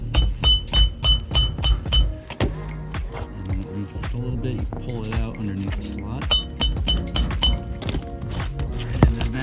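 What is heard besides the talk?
hammering nails flush on a roof using a roof stick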